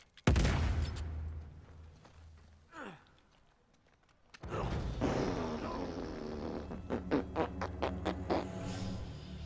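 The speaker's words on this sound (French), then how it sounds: "j'ai lancé une grenade" Grenade blast and gunfire in the Uncharted 4 video game: a sudden loud boom, a quieter stretch, then a dense spell of rapid shots and impacts close up.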